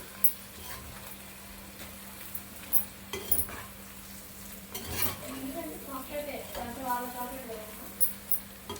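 Masala powder being stirred into chicken fry in a pan, soft scraping and scattered spoon knocks over a faint sizzle, with a few sharper clicks spread through the stir.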